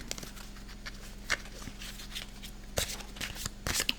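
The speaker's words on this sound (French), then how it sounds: "On va mélanger maintenant ces petites cartes" A small deck of oracle cards is shuffled by hand in a quiet room, giving short papery riffles and soft flicks that swell into a few louder bursts near the end, with no talking.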